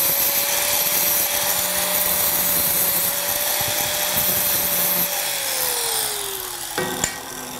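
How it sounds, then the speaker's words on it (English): Angle grinder grinding paint off old rusty metal, a loud steady whine that holds for several seconds, drops in pitch as it winds down, then ends with a short sharp clank. "I gotta grind the paint off of here."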